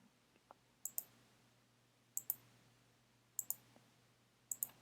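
Computer mouse clicks sound in four quick pairs, spaced about a second apart: crisp, close and faint against a quiet room, with no talking.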